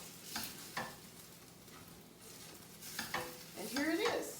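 Matza brei made with eggs and milk sizzles softly in a pan, with faint scraping and stirring strokes from a utensil and a brighter sputter toward the end.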